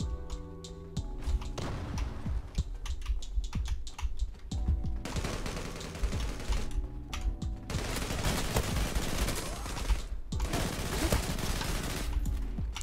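Rapid bursts of Tommy Gun fire in the Zula online shooter game, dense automatic rattling that comes in several long strings separated by short pauses, loud and up close with no talking over it.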